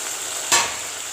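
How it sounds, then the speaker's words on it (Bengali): Onion paste fries in a pan with a steady close hiss while fish cooks nearby for a doi katla dish. One brief louder burst of sizzle or stirring cuts in midway. "পেঁয়াজ পেস্টটাকেও ভেজে নিব ভালো করে লাল করে"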